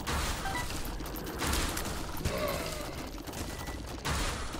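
Rapid Gatling gun tears spray nonstop in The Binding of Isaac Afterbirth, a dense, steady rattle of shots held at constant loudness over game music, with a few brief surges and no talking.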